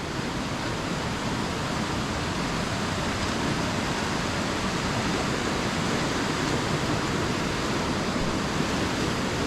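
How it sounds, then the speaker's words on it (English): Water rushes steadily down a Dartmoor moorland stream, a dense, even roar of flowing water that stays loud and unbroken throughout, with no voices. "And also that sound of the water."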